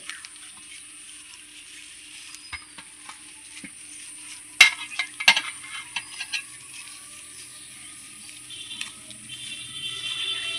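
A leaf wilting in a hot pan for mourala fish paturi gives a faint, soft sizzle, broken by a few sharp clatters of stirring and handling. There is no talking.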